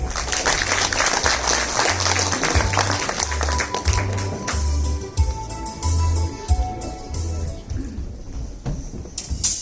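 Audience applause for a children's dance group at a jubilee concert of the folk dance ensemble Shiy Pamash, a dense, sustained wash of many hands clapping with a steady low thumping beat underneath.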